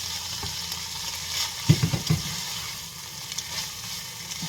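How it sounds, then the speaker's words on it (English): Boiled rice goes into a hot frying pan with a steady, close sizzle and a short cluster of splattering pops in the middle, no voices. "at this junction I'm going to be adding my rice to it"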